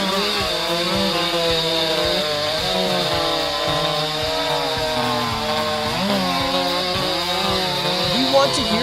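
Logmax 6000 harvester cutting head sawing through tree trunks up to 60 cm thick, a steady loud whining saw drone with fluctuating pitch sweeps throughout, close and continuous, with a brief knock near the end.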